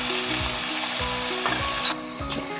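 Onions frying in oil until browned for a Telugu country chicken curry, a steady close sizzle with soft rhythmic stirring scrapes running throughout.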